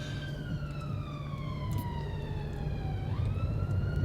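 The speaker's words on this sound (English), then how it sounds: "Couple of ambulances here" Ambulance sirens wailing outside, a continuous sweeping siren tone that slides down in pitch then jumps back up, moderately loud over low traffic rumble.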